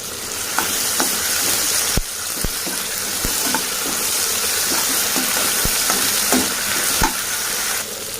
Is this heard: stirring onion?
yes